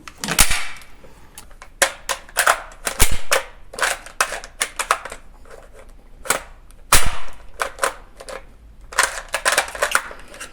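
A Swiss Stgw 57 (F.ASS. 57) assault rifle fires at a shooting range, with sharp cracking shots, some single and some in quick clusters, spread irregularly between short pauses.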